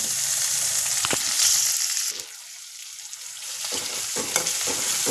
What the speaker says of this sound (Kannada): ಟೊಮೆಟೊ ಚೆನ್ನಾಗಿ ಫ್ರೈ ಆಗಬೇಕು